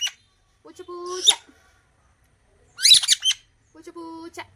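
A pet parrot at home gives three loud, close squawking bursts, the outer two sustained and tonal, the middle one harsh and scratchy, with brief pauses between.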